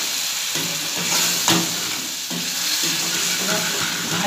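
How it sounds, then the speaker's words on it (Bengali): A mustard-based spice paste sautéing in a pan in a village kitchen, producing a dense close sizzle with repeated stirring scrapes and a sharp clack partway through. "ভালো করে একটু কষিয়ে নিতে হবে, বেশিক্ষণ কষালে হবে না, কারণ এতে সর্ষে আছে, তেতো হয়ে যাবে।"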